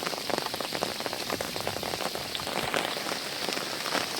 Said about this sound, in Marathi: आता पाऊस जोरात आला, हे बघा मोठे मोठे थेंब पडतात.